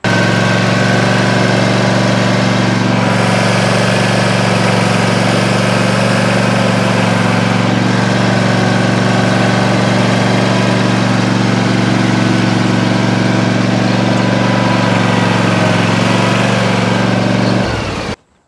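A zero turn lawn mower's engine runs steadily and loudly up close as the machine drives in reverse through a course of cones, a constant droning hum with strong low rumble that cuts off abruptly at the end.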